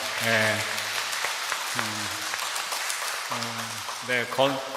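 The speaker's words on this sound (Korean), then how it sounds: "박수로서 와주시면 고맙겠습니다" A church congregation claps for a young soldier home on leave during a Sunday Eucharist, a soft, steady patter of applause running underneath a voice, which keeps speaking in bursts over it.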